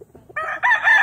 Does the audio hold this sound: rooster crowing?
yes